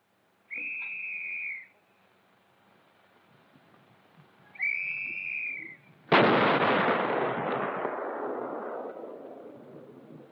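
A T-30 heavy tank test-fires its main gun at Aberdeen Proving Ground: after two short whistle tones, one very loud, sharp blast rolls into a long, rumbling decay that fades over several seconds.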